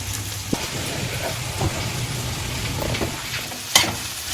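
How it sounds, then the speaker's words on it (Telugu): Sliced okra (bendakaya) crackles and sizzles steadily in hot oil for a crispy fry, with a few louder pops and stirring clatters over the continuous frying hiss. "మనం ఇలా వేయించుకోవాలండి"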